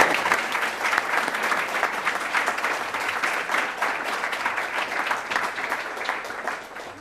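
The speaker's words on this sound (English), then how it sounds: "Please join me in giving a round of applause and a great welcome to Charlise Lyles" An audience at a City Club gathering applauds to welcome a speaker, producing a loud, dense, continuous roar of clapping that holds steady and eases slightly near the end.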